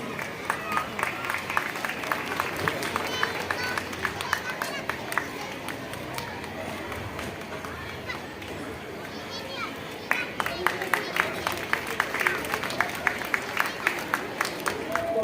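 Parents at a school annual function for the Kids Pride School in Madhubani give steady, moderately loud applause, with dense clapping continuing as a voice speaks over it.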